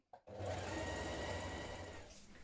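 A sewing machine runs a stretch stitch along a double-folded hem at the bottom of a cowl neck blouse, giving a brief start and then a steady, continuous whir for about two seconds.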